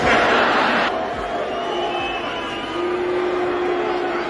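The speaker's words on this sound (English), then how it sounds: "All those people are booing" A large crowd jeers and boos in a sustained, broad roar, loudest at the start and then holding steady at a distance.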